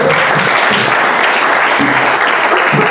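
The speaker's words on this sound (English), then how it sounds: "Give Jack Freeman a round of applause for playing with us." Loud, dense audience applause filling the whole short stretch without a break, with a few low murmuring voices faintly audible underneath the clapping.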